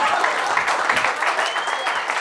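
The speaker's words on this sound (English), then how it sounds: "I can't believe you people applauded for that." A comedy club audience applauds a stand-up comedian's joke, steady dense clapping filling the room for the whole moment, loud and sustained without a break.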